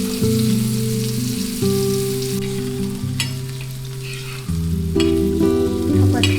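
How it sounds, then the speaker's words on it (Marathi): Gunjali fish coated in semolina and rice flour sizzles steadily as it fries, a close, continuous crackle of hot oil with a tonal hum from the kitchen beneath and occasional stirring. "त्यानंतर ते रव्यात आणि तांदळाच्या पिठात घोळवले आणि फ्राय करायला ठेवले."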